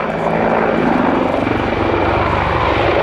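An Apache attack helicopter performs a pedal-turn display manoeuvre at an international air day, its loud, steady rotor thrum and engine roar filling the air without pause.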